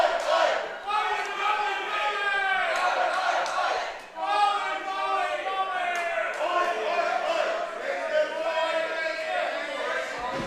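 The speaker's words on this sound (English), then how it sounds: "Raucous crowd here in Yarmouth." A raucous crowd at a live professional wrestling show in Yarmouth, a dense wall of shouting and chanting voices that stays loud throughout with a brief dip partway through.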